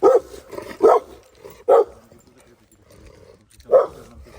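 A dog barks in four loud, separate bursts at close range, with quiet gaps and faint background noise between them.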